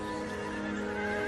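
A horse whinnies in one long, strained, wavering call, loud and close, with no talking over it.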